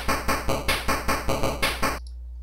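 A simple drum beat made with a PSG sound chip's noise generator: eight even, loud bursts of noisy percussion in a steady pulse, stopping abruptly and leaving a low hum.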